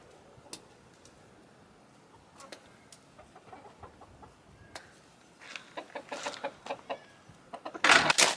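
Backyard chickens cluck in short, scattered calls that grow busier and louder toward the end, close by in an outdoor garden.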